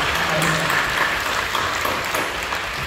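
A congregation applauds during a church worship service, a steady wash of clapping that fills the whole moment at a fairly loud level.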